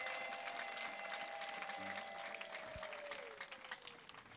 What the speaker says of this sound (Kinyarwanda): Iyi Mana mwayimpereye amashyi menshi yo kabyara.